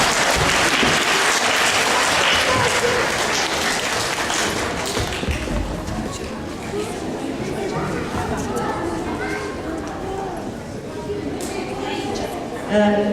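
An audience applauds two children being honoured at a school club event, a dense roomful of clapping that starts loud and thins over the following seconds while a voice begins talking over it.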